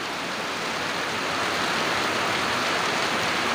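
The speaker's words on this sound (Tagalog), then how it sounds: "Ang lakas ng ulan." Dense, steady roar of heavy rain pouring down, loud and unbroken throughout.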